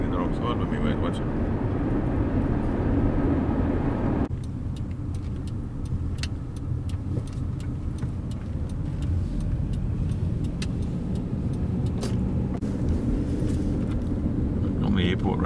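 A car driving along the airport road in Siem Reap, Cambodia, heard from inside as a steady, loud road and engine rumble with scattered light rattles and ticks, and a low murmur of voices early on.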